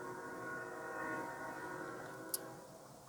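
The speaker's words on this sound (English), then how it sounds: "Y'all hear that train?" A train passes at a distance, a steady low rumble with a brief sharp tick near the end and no talk.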